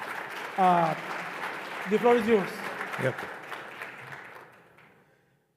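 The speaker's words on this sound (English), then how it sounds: "Please give him an applause." Conference audience applause washes through a lecture hall for a plenary speaker, moderate and fading away, with brief spoken exchanges over it.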